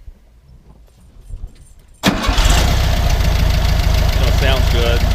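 A 1966 Volkswagen Beetle engine cranks and catches after about two seconds of near quiet, then settles into a loud, close, steady idle with a rhythmic low chug.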